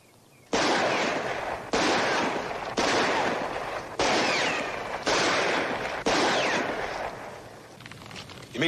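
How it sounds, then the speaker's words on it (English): Revolver shots in a Western town street: six loud, sharp reports fired about a second apart, each trailing off in a ringing echo before the next. "why don't you just take out your gun and shoot at some?"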